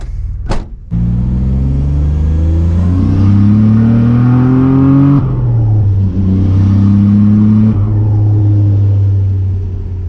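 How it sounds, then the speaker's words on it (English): A turbocharged Nissan Navara with a VG30 engine accelerates hard under 16 pounds of boost, loud and close, its engine note climbing through gears with short shift dips after a sharp click at the start. "16 pounds of boost, pulling pretty hard, so give it another shot."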